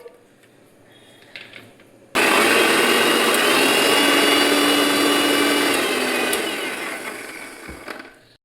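A blender switches on abruptly and roars steadily, pureeing watermelon for homemade ice cream, loud and continuous for several seconds before winding down near the end.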